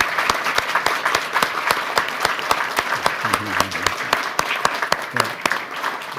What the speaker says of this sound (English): A round of applause to encourage here our three leaders.